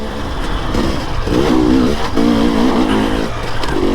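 A KTM 300 XC-W TPI two-stroke dirt bike engine revs loudly and close, rising and falling in a few strong pulls with a steady buzzing drone underneath.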